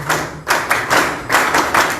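Audience applause at a debate on industrialisation in Peru, a short burst of clapping from a room of people, fairly loud and close, with no voices over it.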